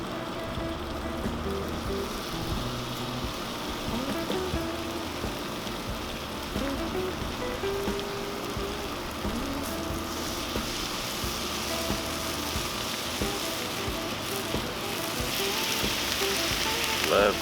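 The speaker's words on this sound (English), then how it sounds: "Love cooking bacon on this flat top." Bacon frying at medium to medium-high heat on a Cuisinart 360° flat-top griddle, a dense, continuous crackling sizzle with steady hiss and no breaks, close and even throughout.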